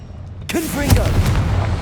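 A Confringo blasting spell from Hogwarts Legacy goes off with a sudden loud burst, followed by crackling, whooshing magical effects that trail away. No one speaks.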